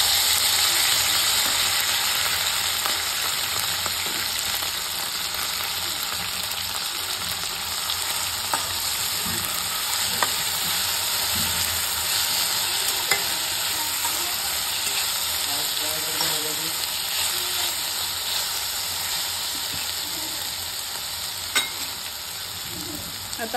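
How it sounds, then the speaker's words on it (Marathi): Potato pieces frying with green chillies in a pan for rajgira upma, a steady loud sizzle running throughout with scattered scraping and clicking as they are stirred. "मिरची छान झाली की आपण त्याच्यामध्ये बटाटा घालूया."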